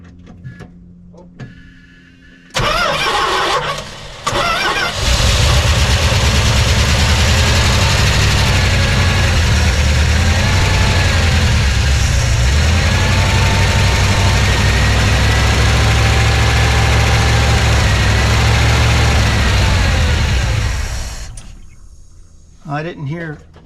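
The engine of a 1977 Dodge Power Wagon W150 starts and runs with a steady, loud mechanical drone and a whirring throwout bearing noise. It goes for nearly twenty seconds and then cuts off, with brief talk before and after.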